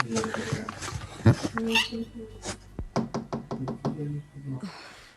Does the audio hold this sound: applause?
no